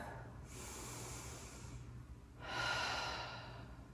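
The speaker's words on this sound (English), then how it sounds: "take a breath" Slow, deep breaths during a yoga session: a long soft inhale followed by a louder, airy exhale, close and quiet with no talking.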